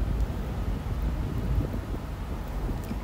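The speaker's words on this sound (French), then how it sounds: "Alors, il y a un petit peu de vent." Outdoor wind buffets a microphone beside a Peugeot Expert van, a constant low rumbling roar without pause or rhythm, fairly loud and close.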